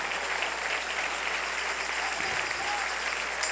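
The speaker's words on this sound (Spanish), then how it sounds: "Dale un aplauso al Rey." Church congregation applauding during a sermon, a steady wash of clapping that holds at an even level throughout with no voices over it.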